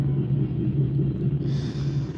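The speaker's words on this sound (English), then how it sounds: "Oh, that's a train." A passing train gives off a loud, close, low rumble that holds steady, then shifts slightly as it moves by.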